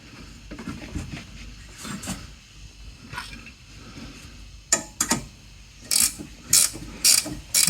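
Ratchet wrench tightening the valve cover bolts on a Stiga Primo ride-on mower, with quick rattling clicks in short bursts that grow louder and sharper toward the end, heard up close with no talking.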